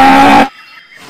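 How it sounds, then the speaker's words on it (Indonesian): A dairy cow lets out a loud, close, brief moo that ends abruptly, followed by faint quiet background. "ini sapi perah"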